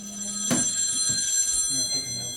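A telephone rings during a recorded session, a sustained high electronic tone running throughout, joined by a sharp click at about half a second and then by someone speaking underneath.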